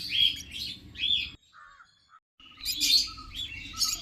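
Cockatiels chirp and call in bright bursts, pausing briefly midway before the chattering resumes, close by and fairly clear.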